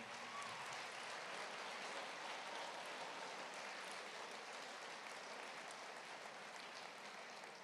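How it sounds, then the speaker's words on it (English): Sustained applause from an audience at a high school Veterans Day assembly, steady and even-textured throughout, heard at a distance and fairly faint, with no talk over it. "So I'd like to thank a big round of applause for Nicole Brown,"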